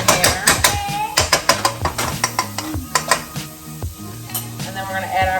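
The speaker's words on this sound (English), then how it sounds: "I'm just gonna go in, add some more butter" Butter sizzles in a hot pan after high-heat shrimp cooking, with a steady frying hiss beneath a run of close, sharp clinks and scrapes as a utensil stirs against the pan.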